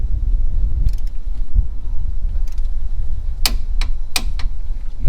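A torque wrench tightens a bolt to 74 foot-pounds on a Chevrolet Tahoe or GMC Yukon suspension, with a socket cheated onto it. A few sharp metallic clicks come close together near the end over a low mechanical background.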